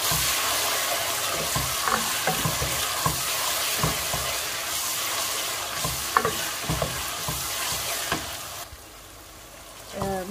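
Onion, ginger, garlic and tomato frying in a pan, a close, steady sizzle with repeated scraping and clinking of a stirring spoon, easing off briefly near the end.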